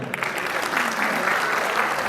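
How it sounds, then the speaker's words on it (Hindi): Audience applause at the 25th Alhamra theatre festival award ceremony, a dense, continuous crowd clapping that swells slightly and sustains at moderate loudness, with faint voices mixed in. "तालियां होती रहनी चाहिए प्लीज"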